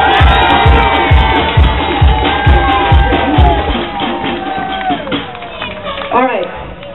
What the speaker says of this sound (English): a nice round of applause